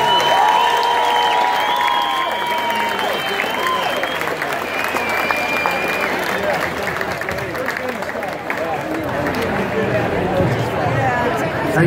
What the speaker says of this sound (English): Please, ladies and gentlemen, a round of applause